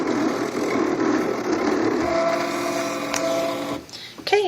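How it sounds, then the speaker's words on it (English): An electronic cutting machine cuts card on a cutting mat, giving a steady mechanical whir and hum with a shift in tone partway through, then a brief clatter near the end. "So it's doing its cutting now."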